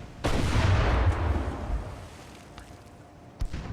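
Heavy naval gunfire from an 8-inch gun cruiser in the warship game Ultimate Admiral: Dreadnoughts, a single loud, near boom with a long rumbling decay and a smaller thud near the end.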